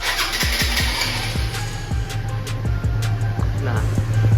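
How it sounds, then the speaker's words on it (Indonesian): Honda GTR 150 motorcycle engine with a new camshaft idling smoothly nearby, a steady low rumble with regular rapid firing pulses, and a radiator fan whirring alongside. "Ini kita dengerin suara mesinnya."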